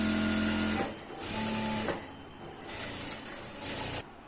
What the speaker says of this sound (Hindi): तो देख सकते हो, हमने दोनों भी पार्ट को सिलाई लगाई।